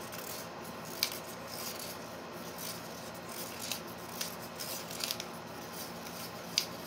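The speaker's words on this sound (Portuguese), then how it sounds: "Eu vou fazer a manipulação e eu vou misturar, raspando bem as laterais e o fundo do nosso copinho." Mould-making material is mixed with its catalyst in a small cup, the tool scraping the sides and bottom. The result is quiet, continuous rubbing and scraping with a few faint sharp ticks.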